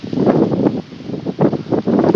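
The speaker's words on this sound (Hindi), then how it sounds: "हवा चल रही है" Gusty wind blows outdoors by a village fishing spot during a hunt for snakehead fish, loud buffeting bursts of rumbling wind noise that rise and drop irregularly.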